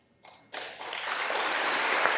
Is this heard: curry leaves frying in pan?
no